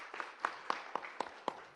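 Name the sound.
audience applause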